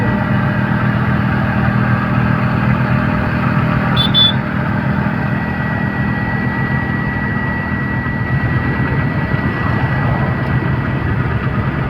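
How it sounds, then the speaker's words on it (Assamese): A motorbike runs along a bypass road near an overbridge, its engine a steady low drone with constant road and wind rumble, close and loud, no talk. "বাইকত গৈ আছোঁ।"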